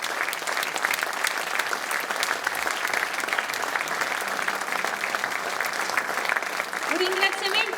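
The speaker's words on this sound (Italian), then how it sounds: "facciamo un grande applauso" Big round of audience applause at a Bersaglieri commemorative event, dense continuous clapping at moderate volume, a voice starting to speak over it near the end.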